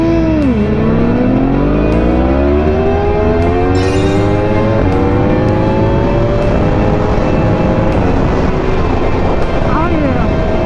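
A supercharged motorcycle engine revs continuously and loudly, its pitch sweeping up and down through repeated throttle blips, with wind buffeting the microphone throughout.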